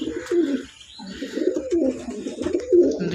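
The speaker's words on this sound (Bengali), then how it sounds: "এই হলো 2 পেয়ার সেকশনশীল।" Two pairs of top-quality Section Shield pigeons coo repeatedly nearby, a soft throaty rolling call in steady overlapping bursts, fairly loud and close with no talk.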